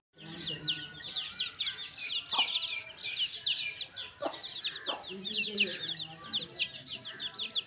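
Several chickens cluck and chatter busily in a Pakistani village on a rainy day, their short squawks overlapping in an irregular, lively stream at moderate volume.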